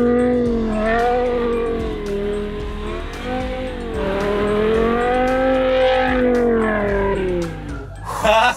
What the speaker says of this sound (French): La voiture, elle part en glisse.